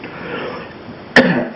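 A single sharp cough bursts out near the end, loud and close, after a stretch of quiet room noise.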